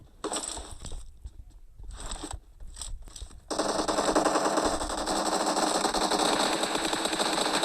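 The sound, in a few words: gunfire in a video game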